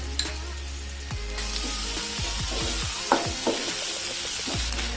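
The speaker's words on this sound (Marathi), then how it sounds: "यात 2 छोटे चमचे मी अद्रक लसणाची पेस्ट टाकते." Ginger-garlic paste sizzling in a pan with reddish fried onions while fish cutlets are being made, with a spoon stirring in scraping strokes every half second or so over a steady frying hiss, close and fairly quiet.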